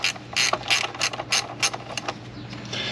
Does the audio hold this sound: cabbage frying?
no